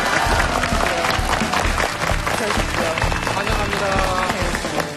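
Studio audience applause fills a television health talk show set as cancer patients and their families are welcomed, loud dense clapping held steady throughout with voices mixed in.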